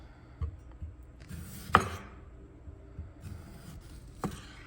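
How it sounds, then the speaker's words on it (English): A kitchen knife cuts through a raw potato on a board, a few close crisp slicing chops spaced apart over a low background hum, no talking. "It slices the potato like butter."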